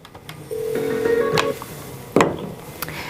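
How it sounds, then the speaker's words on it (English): An extension is keyed in on a Mitel 6900 series desk phone, with a sustained dialing tone followed by short button beeps and a click, close and clear. "dial the recipient's extension"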